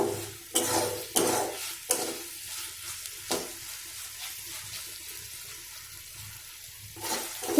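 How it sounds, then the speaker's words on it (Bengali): Paneer tossed with spices in a pan, with a spoon scraping and knocking in several quick strokes early on, then a softer steady sizzle before more stirring at the end. "এটাকে এরকম 10-15 মিনিট ধরে এটাকে একটু নেড়ে চেড়ে নেব"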